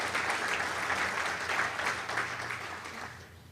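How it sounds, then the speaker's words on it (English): A lecture audience applauds steadily, a dense wash of many hands clapping at moderate distance that holds even and then begins to thin toward the end. "She deserves all of your applause"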